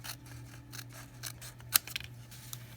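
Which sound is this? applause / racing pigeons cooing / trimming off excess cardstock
trimming off excess cardstock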